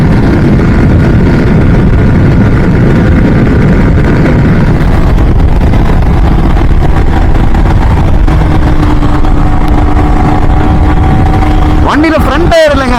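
Yamaha R15 v3 motorcycle cruising in fifth gear around 138 km/h, a steady loud engine drone mixed with heavy wind rush, a voice talking over it throughout, and a brief sharp disturbance near the end.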